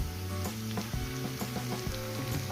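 Potatoes and onion frying in a pan, with steady close sizzling and a run of rhythmic spatula taps and scrapes against the pan, and no one speaking.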